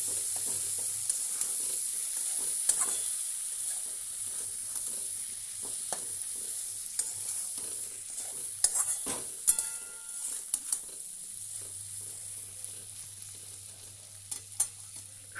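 Loita shutki, dried Bombay duck fish, being stirred while it fries as bhuna in a pan, with a steady close sizzle and scraping spoon strokes against the metal, plus a few sharper clinks over the continuous frying hiss.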